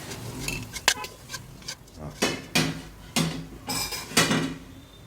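Puffed rice goes into a frying pan for masala borugulu and gets stirred, giving a run of clattering scrapes and knocks of a utensil against the metal pan, spaced irregularly and fairly close.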